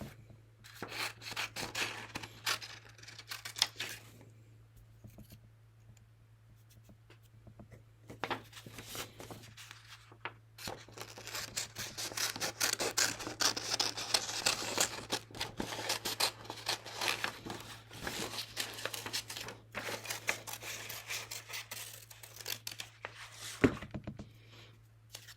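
Scissors snip and rasp through sheets of construction paper, cutting shapes for a stained-glass window craft, in close, irregular bursts of crisp cutting and paper rubbing over a low steady hum, with quieter gaps between.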